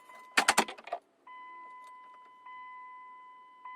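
The ignition key of a 2001 Dodge Ram is cycled to prime the fuel pump: a brief burst of clicking and rattling, then steady electronic chime tones that run on with small clicks, close and quiet, no voices.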